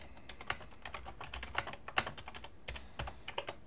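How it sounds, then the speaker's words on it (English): Typing on a computer keyboard, a steady patter of close, light key clicks at a brisk uneven rhythm, with no talk. "I can click the type tool, click on the screen, and type whatever I want."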